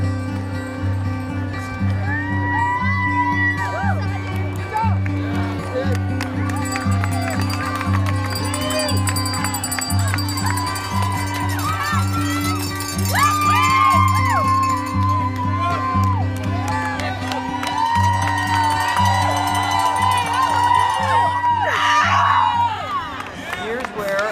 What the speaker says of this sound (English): here you will find a huge, loud crowd at the restaurant Thai's Food and Spirits